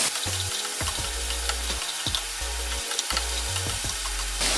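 Loud, steady sizzling as salmon fries in a hot frying pan, crackling continuously with repeated low thumps and scrapes of handling throughout.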